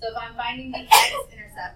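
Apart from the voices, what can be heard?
sneeze in a classroom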